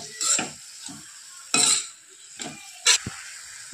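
Sukhi methi bhaji, a dry fenugreek-leaf dish, stirred in a pan after crushed peanuts go in: several separate scraping strokes of a spoon against the pan over a faint sizzle, with short pauses between strokes.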